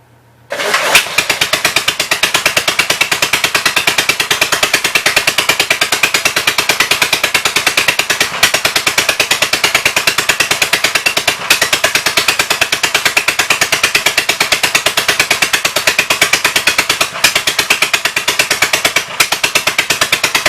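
A 1958 Gravely tractor engine catches and runs steadily with its choke three-quarters on, a loud, continuous rapid chugging that fills the clip close to the microphone without pause.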